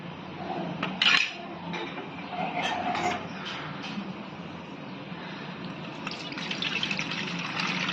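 Homemade ghee is scooped from a pan into a container, producing quiet metallic scraping and clinks of a spoon against the pot, with a few sharper taps amid soft wet swishing.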